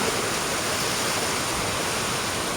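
Heavy rain pours down outdoors at a fair, a dense, steady hiss of water filling the scene without a break, loud and close with no voices over it.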